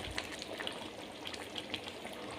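Water poured into simmering homemade chicken gravy in a pot, a steady soft gushing and bubbling hiss, fairly quiet and continuous with nobody talking.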